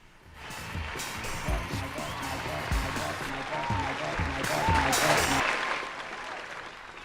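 A crowd breaks into sustained applause, a dense wash of clapping that swells toward the middle and fades at the end, loud and fairly near.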